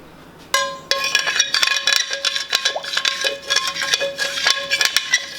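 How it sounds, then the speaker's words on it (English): A utensil scraping browned chuck roast bits from a pan, sharp repeated clinks and scrapes of metal against the pan in an irregular rhythm, close and fairly loud. "Scraping that flavor out. Can't let all that stay in that pan."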